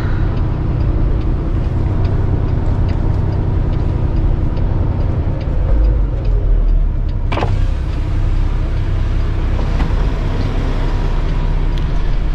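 A truck idles with a steady low diesel rumble while backing a trailer into a spot in a wide open area, the engine drone continuous and close. A sharp clunk or air hiss cuts in partway through.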